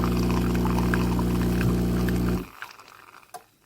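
A Nesskoko 20-bar espresso machine brews with a steady mechanical hum and buzz and a trickle of liquid, loud for about two seconds, then cuts off, leaving faint clicks and drips.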